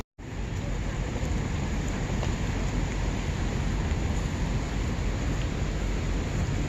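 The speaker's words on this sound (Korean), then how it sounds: "지금 비가 오긴 하지만" Rain falls over Russell Square in London, a dense, steady hiss that holds at a constant level throughout with no voices.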